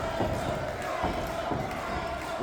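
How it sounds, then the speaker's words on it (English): A pro wrestling crowd in Plaquemine roars and cheers as a wrestler struggles in a match, a dense ongoing crowd noise with a few thuds, under a commentator's voice. "the crowd here, our Pro Wrestling 225 family and Plaquemine trying to will him back to his feet"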